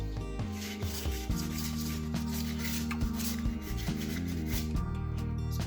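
A soft pastel stick scratches across paper while painting bold flowers, giving a steady, close, gritty rubbing texture with short strokes that continue throughout, with no talk over it.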